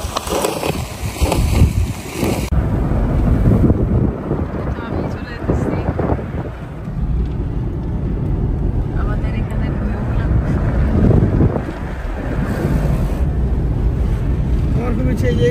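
Wind blowing outdoors near the sea, heard as a continuous loud rumbling buffet across the microphone, with people talking over it throughout.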